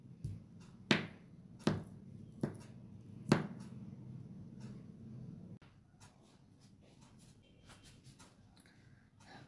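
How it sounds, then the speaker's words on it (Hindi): A knife chops through potatoes on a board, four distinct thuds at a steady pace, followed by softer rustling and handling sounds. "चटनी बनाने के लिए आलूओं को कट कर लेंगे"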